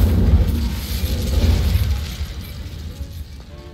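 A fire spell bursts in the video game Hogwarts Legacy, a loud rumbling whoosh and crackle of flames that swells, then fades toward the end with a few faint clicks.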